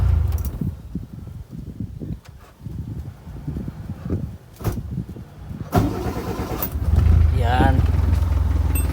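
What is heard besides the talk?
Kia Pride B1 engine starting and idling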